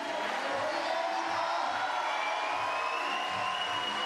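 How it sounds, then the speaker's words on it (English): Spectators at the IFSC Climbing World Cup lead final in Stavanger in 2015 cheer on climber Markovic, a continuous roar of crowd noise with shouts and whoops rising and falling. "Crowd warming to Markovic."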